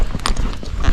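Gaited horse moving at a flat walk on the ground, hooves clip-clopping in a quick, close, evenly spaced series of thuds over one second, with no talking.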